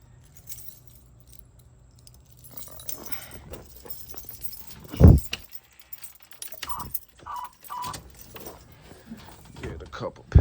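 Car keys jangle faintly near the start of a cold start on a 1987 Chevrolet Monte Carlo, followed by a louder thump and scattered rustling, with speech around them.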